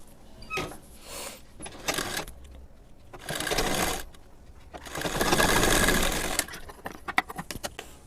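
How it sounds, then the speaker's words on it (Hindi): Sewing machine stitching blouse fabric with its lining underneath, running in several close bursts of steady whirring buzz, short at first and then a longer run, with clicks and handling noises between, no talk. "ये देखिए मैंने इसे स्टिच कर लिया"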